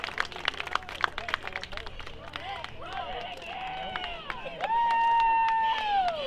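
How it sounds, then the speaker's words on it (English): A high school football crowd yells and cheers in the stands, bursts of shouting and clapping heard at a distance under a nearby voice, swelling into a sustained cry near the end. "You can hear the crowd yell"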